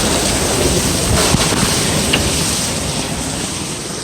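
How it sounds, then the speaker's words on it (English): Steady heavy rain with strong wind during a thunderstorm, a dense continuous wash of noise at constant loudness with no distinct thunder crack standing out. "it's really windy and it's raining"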